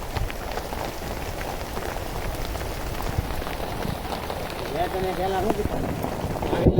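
Heavy rain pouring down during a storm in Mahuva taluka, a dense, constant roar of drops hitting surfaces, close and loud, with faint rumbles underneath.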